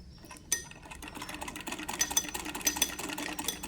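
A sewing machine stitching a shalwar with long basting stitches, running in a steady rapid clatter of small mechanical ticks after a sharp start, close and fairly quiet, with no talk.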